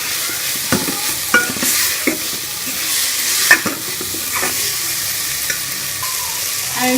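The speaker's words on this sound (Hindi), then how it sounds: "मैं शिमला मिर्च और बंद गोभी को भी इसमें फ्राई कर लूँगी 1 से 2 मिनट के लिए" Capsicum and cabbage frying in a pan for a keema roll filling, a continuous close sizzle broken by sharp scraping and tapping of a spatula stirring the vegetables every second or so.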